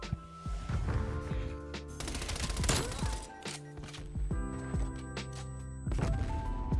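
AK-47 fire in the video game Call of Duty Cold War, with several sharp, dense bursts of automatic shots cracking loudly over a busy mix of game music and effects.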